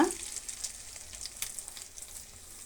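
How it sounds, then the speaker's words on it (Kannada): Masala sandige deep-fries in hot oil, a continuous bright crackling hiss with small pops that stays fairly soft and even, with no speech. "ಈ ರೀತಿ ನಾವು ಎಲ್ಲ ಡೀಪ್ ಫ್ರೈ ಮಾಡ್ಕೊಂಬಿಡೋಣ"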